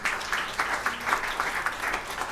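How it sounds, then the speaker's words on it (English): A conference audience applauds steadily, a dense wash of many hands clapping in a medium-sized hall, sustained and fairly loud throughout. "So please give a big applause."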